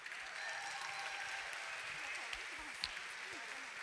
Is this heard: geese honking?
no